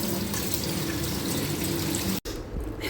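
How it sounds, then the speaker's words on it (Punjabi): Soya chunks are washed in cold running water, a constant close splash and rush of water from a tap that cuts off briefly near the end, with no speech. "ਚੰਗੀ ਤਰ੍ਹਾਂ ਧੋ ਲਵਾਂਗੇ ਠੰਡੇ ਪਾਣੀ ਨਾਲ ਇਹਨੂੰ ਇਸ ਤਰ੍ਹਾਂ"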